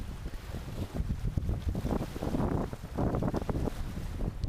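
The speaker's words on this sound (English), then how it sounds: "We're getting the full aspect of these waves. They're coming from the opposite side of the lake." Waves churned up across a Minnesota wilderness lake slap and wash close by, with strong gusty wind buffeting the microphone, and no voices.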